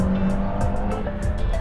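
A fast car warms up on a wet race track kept soaked by sprinklers. It drifts with loud tire squeals over a roaring engine, close and intense for the whole short burst.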